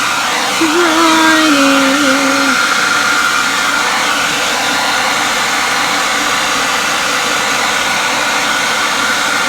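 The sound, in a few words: dryer drying decorated Easter eggs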